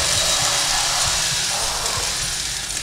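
Chainsaw from The Evil Within horror game, a steady, loud rasping engine drone held continuously throughout with no talking over it.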